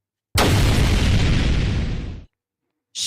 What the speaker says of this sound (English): What was that? Oh my God. An explosion.